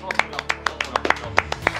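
A small audience claps in a rhythmic burst of distinct, fairly close hand claps at an even pace, with light talk underneath.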